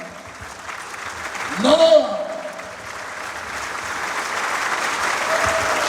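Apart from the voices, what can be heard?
audience applause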